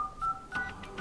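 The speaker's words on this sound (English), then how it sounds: "here you will notice Dialpad tones" Several brief dial pad tones from a Sony Xperia 10 II phone dialer, quick successive beeps close and clear over faint background hiss.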